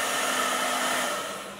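A hair dryer blows steadily on wet, fluid paint during a flood-style painting session, giving a continuous airy whoosh that eases slightly toward the end, with no voices.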